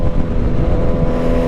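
A 2024 25th Anniversary Suzuki Hayabusa motorcycle pulling hard, with a loud, steady engine roar recorded close up and no voices.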